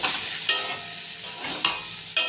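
Potatoes with poppy seeds stirred in a pan over a soft, continuous sizzle, with four sharp scrapes of the spoon against the metal at irregular intervals, close and clear with no voices.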